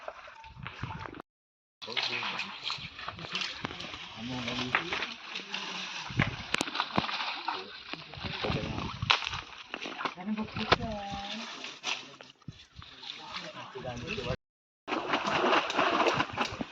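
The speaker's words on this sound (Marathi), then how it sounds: "पाणी बाहेर काढायचं." Water from a river pool is bailed out by hand during fishing, giving repeated close splashes and sloshes, with voices talking over much of it.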